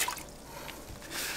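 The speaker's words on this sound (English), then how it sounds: "now I'm gonna use the sponge to clean the side of the bucket" Wet sponge wiping the side of a bucket of water used for drywall mudding, with soft squishing, drips and faint liquid trickles, close and quiet, no talk.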